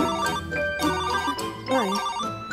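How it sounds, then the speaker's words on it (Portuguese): Telephone ringtone playing a bright electronic melody, steady and fairly loud throughout a short stretch, with no talk over it. "Eu vou ligar pro Guarda LB."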